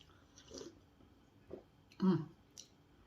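Someone takes a bite of bibingka, a Filipino rice cake: a few faint, close chewing and mouth sounds in separate soft bursts, one slightly louder in the middle, with quiet stretches between.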